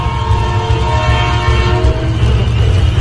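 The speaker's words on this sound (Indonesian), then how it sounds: "suara kereta." Train sound effect in an Indonesian horror story narration, a loud continuous rumble of a passing train with horn-like tones and rolling rail noise, steady throughout with no voice.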